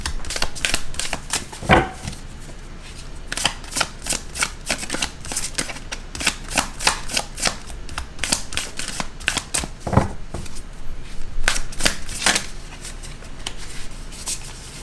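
Tarot cards are shuffled by hand in a steady run of quick riffling flutters and soft slaps, close and fairly loud, continuing without pause and with no talking.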